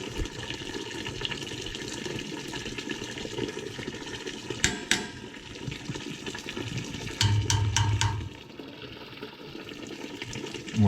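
Water drains and sloshes from the return trap of a steam boiler, a steady liquid rush with a few sharp metallic knocks and a brief louder gush partway through.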